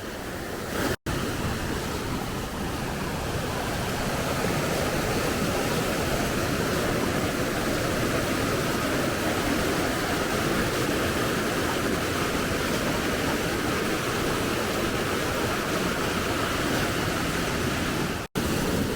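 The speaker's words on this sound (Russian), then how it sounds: "Пьем наш утренний кофе прямо около небольшого водопада на реке в районе кемпинга." A small waterfall on a river beside a campsite in Armenia's Zangezur area gives off a constant, loud, close rushing roar that stays even for the whole stretch, broken only by two brief cut-outs.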